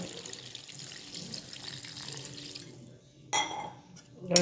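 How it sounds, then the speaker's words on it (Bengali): Water is poured into a cooking pan of gravy for a catla fish curry, making a soft, continuous splashing flow, followed by a sharp clink of metal and another brief clatter. "জলটা দিয়ে দেবেন দিয়ে দিচ্ছি জল"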